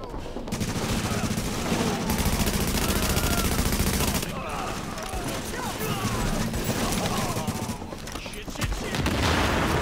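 Dense, continuous automatic gunfire in the video game The Division, loud and sustained through most of the stretch, with a brief lull in the middle and players talking over it.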